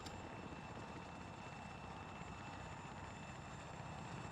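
In the video game Arma 3, a helicopter in flight gives a steady, dense rotor and engine roar that stays constant throughout, heard from inside or close by with no talk.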